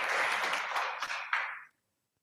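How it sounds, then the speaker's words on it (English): Audience at a university library book discussion applauding, a brief burst of clapping that stays fairly soft and then stops abruptly into silence. "Round of applause."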